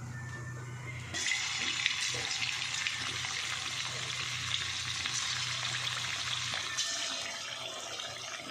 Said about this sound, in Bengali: তো এবারে কর্নফ্লাওয়ার দিয়ে এবারে পকোড়া করে নেবো